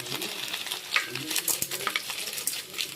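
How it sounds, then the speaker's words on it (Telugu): Tempering spices and dried red chillies fry in hot oil for sambar, a close, crackling sizzle with scattered pops and a few stirring scrapes. "పోపు దినుసులు వేసుకున్నాం ఫ్రెండ్స్."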